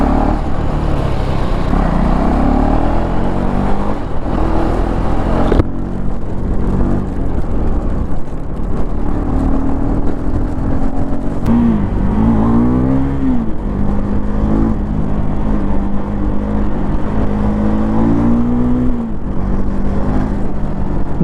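A 2024 Gen 3 KTM Duke 390 being ridden through traffic, its engine droning loud and close, rising in pitch through each gear and dropping sharply at every shift, with wind noise throughout.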